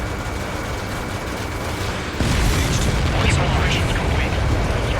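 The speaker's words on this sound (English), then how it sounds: "Missile hit." A missile striking its target in the jet combat game Ace Combat 7, a loud rumbling explosion that swells abruptly partway through over a dense roaring background of engine and battle noise, with a game voice present.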